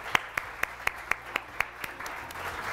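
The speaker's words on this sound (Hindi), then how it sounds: "उसके लिए तालियां।" Studio audience clapping on a morning television show, a quick run of about eight sharp, evenly spaced claps that thin into a faint patter, fairly quiet.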